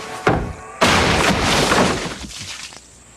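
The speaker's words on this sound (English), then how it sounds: "When you whack a Terry's chocolate orange" A Terry's chocolate orange is whacked and smashed apart: a sharp crack, then a loud, close crashing burst that rings on for about a second before fading.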